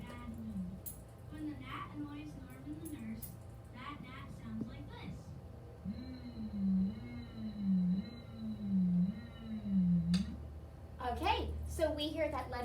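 A voice imitates a buzzing gnat with a run of drawn-out, nasal nnn hums, between stretches of clear spoken teaching.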